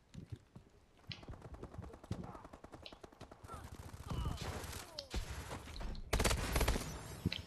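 Rapid hip-fired automatic gunfire in Call of Duty: Advanced Warfare multiplayer, dense bursts of loud, close shots that build and intensify toward the end amid game effects, with a voice speaking briefly underneath.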